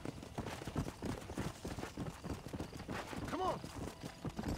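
Horse hooves clip-clop at a steady run in the Red Dead Redemption video game, fairly quiet, while someone talks over the hoofbeats.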